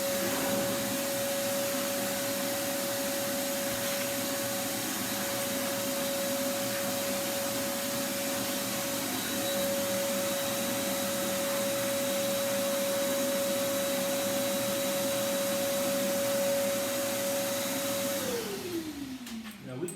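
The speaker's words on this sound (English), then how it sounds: "I'm going to grab the shop vac real fast." A shop vac running in a woodworking shop, a loud, steady roaring whine with a constant tone held for about eighteen seconds before the motor shuts off and spins down.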